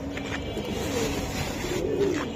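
Giribaz pigeons from a breeder's loft coo softly in low, rolling phrases, a few close calls rising over steady background noise.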